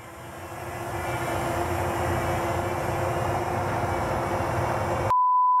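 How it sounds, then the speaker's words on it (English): A quadcopter drone flies with a steady whirring roar that swells over the first second and then holds, followed by a brief electronic beep at the end. "Boy, I hope this drone doesn't back into a tree."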